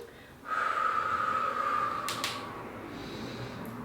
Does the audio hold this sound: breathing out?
yes